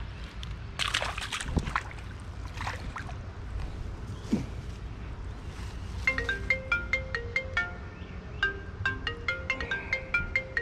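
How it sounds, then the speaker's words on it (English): A phone ringtone chimes in a repeating melodic pattern during a bluegill fishing outing, entering after splashes and water sloshing near a boat and ringing steadily and fairly loud over the outdoor background. "Don't you hate when your phone ringing while you're fishing?"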